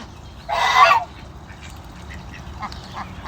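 A goose lets out one loud, close honk while a flock feeds on scattered rice, followed by a few fainter calls and quiet shuffling.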